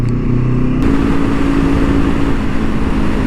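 Honda CL 500 motorcycle from 2023 on a racing track, its engine droning loud and steady close by, a tonal note lifting in pitch partway through, with heavy wind rush over it.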